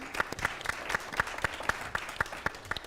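An audience at an event honoring Hubert Humphrey applauds, with clear, evenly spaced claps in a steady rhythm over a soft wash of crowd clapping, moderately distant.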